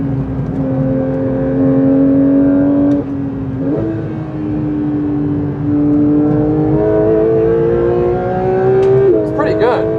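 Porsche 992 GT3 race car engine pulling hard through a fourth-gear corner, a loud steady high-revving note that dips with a shift and climbs again, with brief tire noise near the end.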